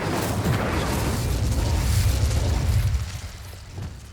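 The Incendio fire spell goes off in Hogwarts Legacy as a loud, rumbling whoosh of flame that roars steadily for about three seconds, then dies away into a lower rumble, with no voices.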